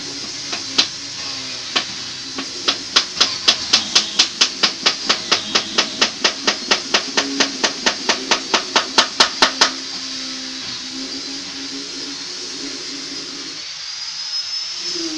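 A hammer taps a wooden glazing bead into a window frame over a protective sheet of paper, striking about thirty quick, even, close blows that start sparse and then run steadily before stopping, over a constant background hiss.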